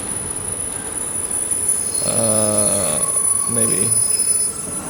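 An automated train pulls in with sustained squealing wheels and rumbling railcars over a steady electronic hum, in the sci-fi horror game SOMA played with an SCP mod; a voice speaks briefly.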